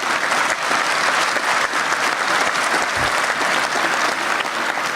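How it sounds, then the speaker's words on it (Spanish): Audience applause for a speaker at an Industry 4.0 expert panel debate, a steady, dense wash of clapping from many hands that holds evenly throughout. "Un aplauso para Said Méndez, por favor."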